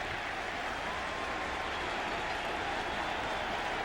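A baseball stadium crowd at a 2000 NLCS game between the Cardinals and the Mets, cheering and applauding steadily after a strikeout, a broad sustained roar heard from within the stands.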